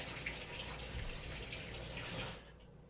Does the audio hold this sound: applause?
no